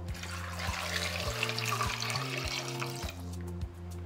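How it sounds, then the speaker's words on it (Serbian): Water gushes steadily from a tap into a cooking pot, a broad rushing splash over a low hum, close and fairly loud for about four seconds. "Nalit ću vodu."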